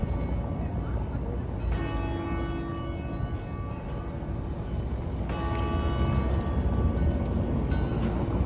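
Several church bells ring together at noon in the town of Bamberg, Germany, their overlapping peals heard at a distance in two swells over a steady outdoor background hum.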